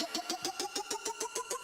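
A car engine runs with a fast, regular pulsing beat of about six even thumps per second, close and moderately loud, with no talking.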